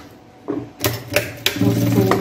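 A sewing machine stitches along the zipper channel of a men's shoulder bag with sublimated panels, running in short close bursts of rapid mechanical clatter separated by brief pauses.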